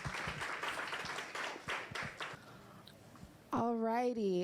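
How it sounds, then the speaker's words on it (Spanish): Audience applause at a Spanish-language planning academy session, a dense patter of clapping that thins out and fades over a few seconds before a sustained tonal sound cuts in. "Otro aplauso, por favor."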